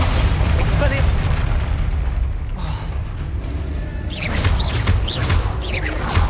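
A Bombarda blasting spell goes off in the Hogwarts Legacy game, a loud, dense rumbling blast that fills the whole stretch, with a brief dip and then a fresh crackling burst of debris near the end.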